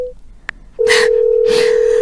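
A phone call to an unanswered line gives a short tone, a brief beep, then a steady continuous dial tone that runs to the end, with loud voice-like bursts over it.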